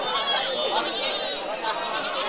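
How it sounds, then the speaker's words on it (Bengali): Native Black Bengal goats bleat over and over at a busy livestock market, their wavering cries layered densely with crowd chatter and voices close by. "দেখেন খালি দেশি জাতের ছাগল"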